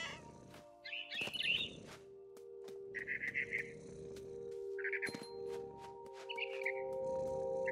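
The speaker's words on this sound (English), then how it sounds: "Then I heard chirping outside my window." Short bursts of high bird chirps from the video game What Remains of Edith Finch come and go over a steady low electronic hum, with a few sharp clicks scattered between them.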